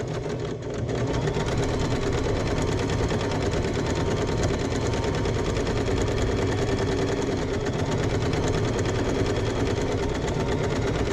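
A sewing machine runs steadily and continuously, stitching a bag lining with the needle centred, a 2.5 stitch length and a backstitch at the start; the motor hum is loud, close and unbroken, with no voices.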